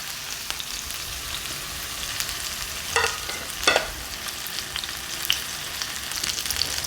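Peppered and salted steak sears in hot oil with a constant close sizzle, broken by a couple of louder spattering bursts as it settles in the pan.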